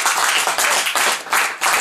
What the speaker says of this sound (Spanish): Un aplauso al Señor Jesucristo.